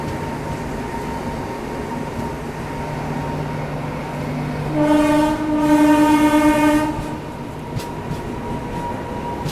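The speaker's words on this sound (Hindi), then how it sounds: "ट्रेन अपनी निकल रही है हरमोती जंक्शन से 2 मिनट के स्टॉप के बाद" A Shatabdi Express departing Harmuti junction after a two-minute stop sounds a long, loud horn blast over steady rumbling rail noise, with the horn holding for about two seconds before the rumble carries on alone.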